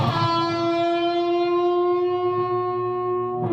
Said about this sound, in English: you have to almost mute every other string with something and then just rake the strings and then still be able to do that bend